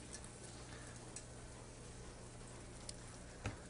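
Water boils in a pot in a home kitchen with small bubbles, making a continuous soft bubbling hiss at low volume with a faint tap near the end.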